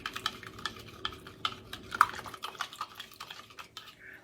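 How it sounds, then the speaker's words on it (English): Bouillon is being stirred into a broccoli and chicken casserole mixture in a pot, giving soft repeated scraping and clinking strokes at close range with no talk. "going to stir that up."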